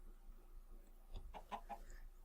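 A chicken in Minecraft gives a few quiet clucks, three or four short calls spaced close together over a faint background.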